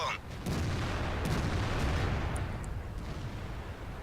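Tank cannon fire in a tank battle video game, a heavy boom followed by a long rumbling roar with faint higher impacts, heard under talk.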